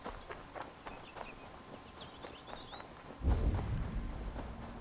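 Horse hooves clip-clop at a steady walking pace in Assassin's Creed Valhalla, moderately close over faint ambient game sound, before a louder low rumble takes over near the end.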